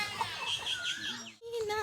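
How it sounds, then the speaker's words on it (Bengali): Large chickens cluck and squawk nearby in a few short, rising calls, fairly quiet, with a voice faintly mixed in. "কত বড় বড় মুরগি"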